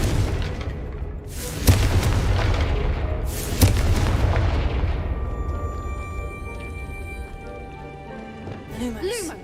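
A Confringo blasting spell explodes in Hogwarts Legacy on Xbox Series X: two sharp, loud booms land about two seconds apart over a dense rumbling bed, then the noise fades into a quieter, tonal game ambience.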